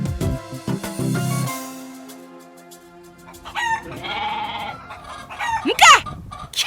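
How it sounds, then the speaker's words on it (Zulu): Farmyard chickens cluck close by and a rooster crows loudly near the end, among goats, with bursty calls and short quiet gaps between them. "bona nje izinkukhu zicinga ukuba ndinto yodlala"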